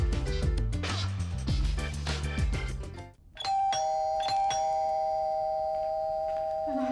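A doorbell rings indoors, a clear two-tone ding-dong chime with long ringing tails, following a stretch of loud music.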